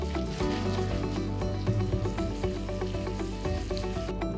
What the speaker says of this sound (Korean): 남은 크림 소스에는 삶은 파스타면을 넣어서 살짝 볶는다.